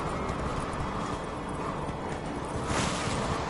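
Hooves of the horse Roach clip-clopping at a gallop in a video game, a fast rhythmic pounding close up, alone without talk.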